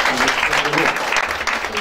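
Church congregation at a Sunday service applauding the Lord, a dense steady wash of many hands clapping throughout, with voices mixed in the crowd noise.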